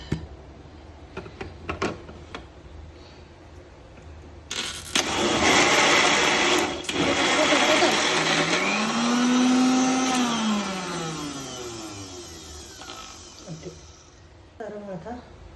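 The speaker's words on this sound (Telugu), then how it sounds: "మీగడ కూడా పెట్టి మిక్సీలో వేసి పట్టాలి" A kitchen mixer grinder churns boiled-milk cream for homemade ghee, starting with a sudden loud, steady whirr and a motor pitch that rises and falls before the grinding cuts off and the room goes quiet.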